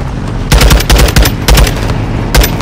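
Loud gunfire bursts in Call of Duty Modern Warfare 2, several rapid clusters of automatic shots with booming low thumps, separated by brief gaps, close and forceful.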